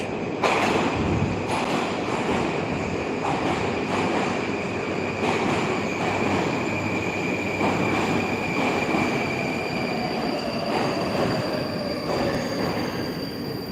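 A Moscow metro train rolls steadily along the rails with a continuous rumble, a long high-pitched wheel squeal, and occasional rhythmic clacks, close and loud throughout.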